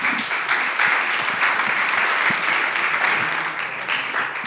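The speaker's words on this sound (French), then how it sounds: "Et on peut l'applaudir." Steady applause from an assembly audience at a governance meeting, dense, even clapping from many hands sustained throughout without pause, no talk over it.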